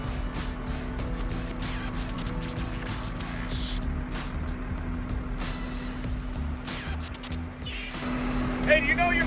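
A diesel truck engine idles in a steady, low droning hum that holds unchanged throughout, with voices talking over it.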